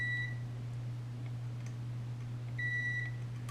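A multimeter continuity beep sounds during a switch replacement in a Cry Baby wah-wah guitar pedal: two short steady tones, one at the start and one near the end, over a constant low electrical hum.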